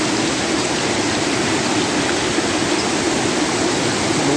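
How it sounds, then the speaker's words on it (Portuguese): A small river running full and fast after heavy evening rain at a campsite, a steady, loud rushing roar of water that holds constant throughout with no voices over it. "O riozinho aqui, ó. Tá cheio, fião."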